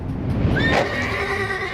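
A heavy draft horse, one of a team weighing about 2,000 pounds used to haul a meat shed on a sledge, lets out a loud, close whinny that rises and then trails off, with no voices.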